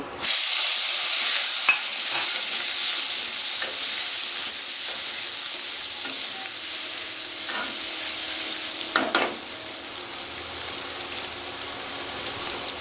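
Potatoes frying with five-spice (panch phoron) in a small amount of oil for a Bengali bottle gourd and prawn dish: a steady, close hiss of sizzling fat with occasional stirring scrapes, no talking.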